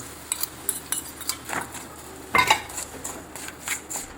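A spoon scrapes and clinks against a pan while jaggery melts in ghee, irregular metallic taps and scrapes at close range, with a louder burst midway.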